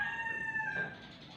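A chicken on a small backyard farm crows in a single cock-a-doodle-doo, its bright harmonic call sitting close and clear before trailing into quiet rustling.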